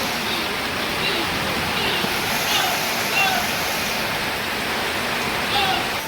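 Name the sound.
rain falling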